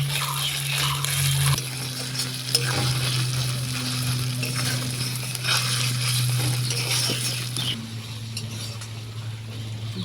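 Ginger, garlic and green chili paste fries with onions in a pan for a prawn curry with potato and pointed gourd, a continuous close sizzle with occasional stirring scrapes and light utensil clinks, no voices.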